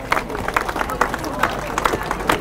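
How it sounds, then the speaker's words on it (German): A crowd at an outdoor cattle show in Grabs applauds the cow owners, a sparse, uneven clatter of clapping hands mixed with crowd murmur and some talk. "Und die Besitzer haben noch einen ganz, ganz kräftigen Applaus verdienen für das."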